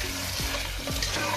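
Diced paneer tossed into a hot pan for chilli paneer, with a steady close sizzle and two quick scraping stirs in the brief moment, with no one speaking.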